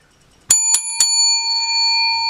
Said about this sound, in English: 3 bells on such a small ticket.